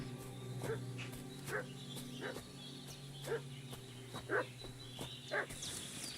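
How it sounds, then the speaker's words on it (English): A dog barks in the video game Kingdom Come: Deliverance 2, seven or eight sharp barks at a steady pace, moderately distant, over a low ambient hum and background game sound. "What's that dog making such a fuss about?"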